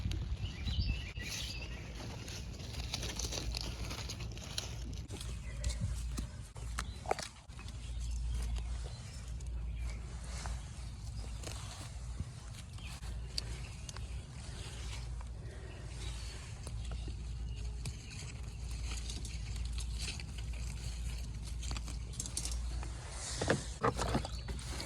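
Rain patters steadily onto garden containers holding kale, carrots and basil, a soft, continuous drizzle of drops with occasional louder plinks and faint bird chirps in the background, fairly quiet and close.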